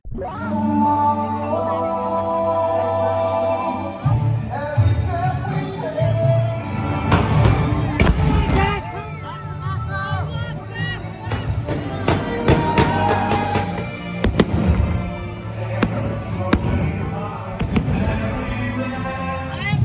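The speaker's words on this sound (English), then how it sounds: "Let's enjoy these fireworks and our naivete together." Fireworks bursting repeatedly at Magic Kingdom, a string of booms and crackles with sharp pops layered over a steady low rumble, some loud and close.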